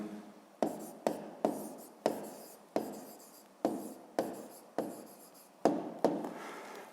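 Pen strokes on paper while a maths answer on potato yield is written out by hand, a close, dry scratching that repeats in about a dozen short bursts, each starting sharply and fading, with no talk over it.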